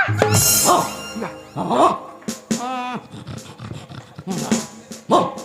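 A dog whimpers and gives several short barks and yelps in bursts, close and fairly loud, mixed with people talking nearby.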